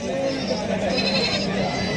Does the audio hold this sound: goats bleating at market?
yes